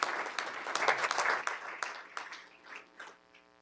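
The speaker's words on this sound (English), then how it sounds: "give yourselves another round of applause" Steady clapping from a crowd at a school board meeting, fairly loud at first and thinning out toward the end, with a few scattered claps lingering.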